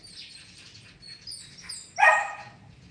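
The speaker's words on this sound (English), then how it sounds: "I don't know what the dog is barking about" A single sharp dog bark rings out near the end, following a few faint chirping bird calls in an otherwise quiet outdoor setting.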